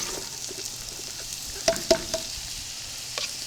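Parsnips, turnips, red onions and shallots hitting hot shimmering oil in a pot for vegetable stock, a soft steady sizzle with a few sharp clatters and stirring sounds, no talking.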